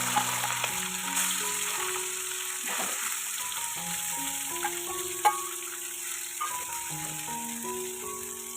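Dried red chillies frying in oil, a constant bright sizzle with occasional stirring scrapes and one sharp clink, close and continuous without talk, with faint music in the background.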